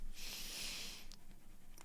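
A person sniffles close up, one long airy breath drawn in through the nose followed by a couple of short quick sniffs, soft and faint.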